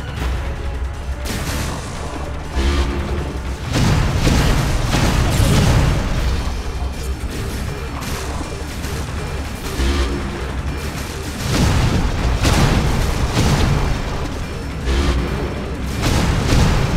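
Missiles fire and explode continuously in Metroid: Other M, a loud, dense barrage of booms and blasts that overlap with no pause for the whole stretch.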